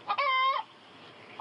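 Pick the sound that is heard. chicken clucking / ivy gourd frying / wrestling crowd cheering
chicken clucking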